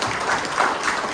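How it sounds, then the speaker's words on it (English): An audience claps for a speaker at a talk about Long Island's waterkeepers, a dense and fairly loud wash of applause that stays even through the moment. "let's give him a round of applause"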